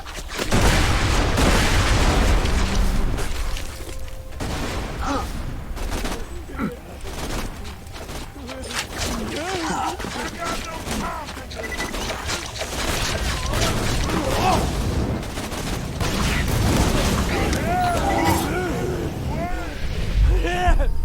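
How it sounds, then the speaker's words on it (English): Grenade blasts in Borderlands 2 boom amid dense, continuous combat noise with gunfire and mechanical effects, loud throughout, while voices speak over the chaotic battle. "Grenade! Throwing grenade!"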